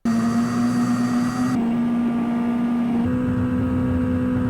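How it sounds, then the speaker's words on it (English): A car engine in the 1996 Konami arcade racing game Winding Heat drones at a loud, steady pitch, its tone shifting slightly a couple of times, with no talk over it. "Your car drones as it races along, but what's neat about this is that different cars feature different engine sounds"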